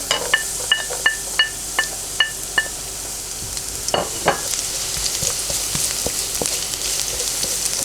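Minced garlic hits about two tablespoons of hot oil for TapSiLog, with a run of sharp utensil taps and clinks at first, then a steady, close sizzling hiss that swells and carries on alone without talk.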